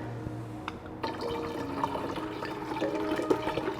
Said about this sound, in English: We're gonna pour.